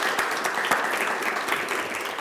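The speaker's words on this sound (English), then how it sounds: "a round of applause for our panel" Audience applause for a panel at an industry academy event, dense steady clapping from a seated crowd, full and continuous throughout with no speech over it.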